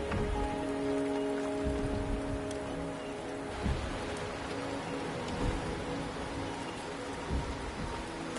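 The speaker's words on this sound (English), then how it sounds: "The rain is subsiding, and the sky will soon clear." Rain falls steadily in the Wuthering Waves video game, a dense even patter over soft sustained tonal ambience, with no one speaking.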